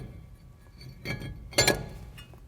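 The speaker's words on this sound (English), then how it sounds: "Then take your rotor and install it." Metal brake rotor slid onto a Jeep Wrangler front hub, giving two brief clinking, scraping contacts, the second louder and sharper, against a quiet background.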